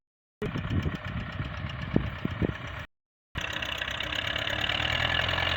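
A YUMZ-6 tractor engine works hard in second gear climbing a slope through a waterlogged vegetable plot after rain, pulling a Bomet disc harrow. It gives a steady, loud rumbling drone with knocking, broken by a short silent gap.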